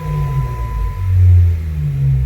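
A 2016 Jeep Wrangler Rubicon Hard Rock Edition with a Flowmaster Outlaw muffler idles with a deep, throaty exhaust rumble. It swells briefly in the middle and stays loud and close, with no talking.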